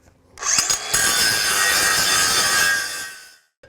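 A Craftsman V20 brushless 4.5-inch paddle switch angle grinder, model CMCG45, whines loudly while cutting through a cutout. A few short revs come first, then a sustained harsh grind that fades out as the wheel slowly spins down.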